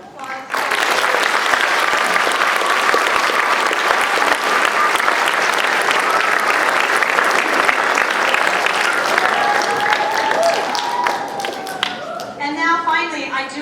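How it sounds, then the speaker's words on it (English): Audience applause at a homeschool choir spring concert: sustained, dense clapping from a large crowd that stays loud and steady for over ten seconds before thinning out, with a voice speaking as it fades. "Big round of applause."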